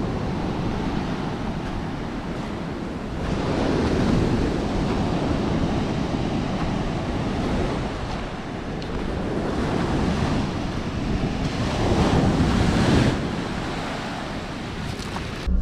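Sea waves break on the Crimean coast in slow surges that swell and fade, mixed with steady wind buffeting close to the microphone.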